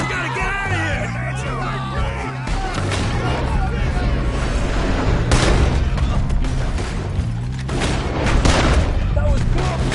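Gunfire bursts from Red Dead Redemption 2 crackle through a chaotic in-game shootout, with sharp repeated shots and booms amid shouting voices and dense background noise.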